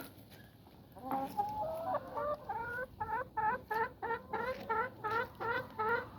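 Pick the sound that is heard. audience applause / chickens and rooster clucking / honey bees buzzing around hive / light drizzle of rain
chickens and rooster clucking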